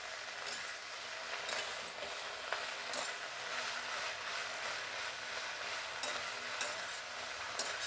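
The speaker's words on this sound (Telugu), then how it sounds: "బెండకాయ వేయించేటప్పుడు జిగురు వస్తుందండి, ఆ జిగురంతా పోయేదాకా వేయించుకోవాలి" Okra (bendakaya) frying in oil in a pan, a quiet continuous hiss and sizzle with occasional faint stirring clicks and scrapes, low in level and steady.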